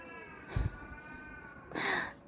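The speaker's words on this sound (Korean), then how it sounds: "고양이 난리 났어." Two loud, drawn-out cat yowls, one short burst early and a longer wail near the end, with quiet hum in between.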